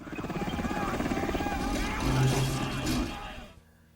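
A military helicopter in a film thrums with a rapid, loud rotor chop under dramatic background sound, then cuts off abruptly near the end.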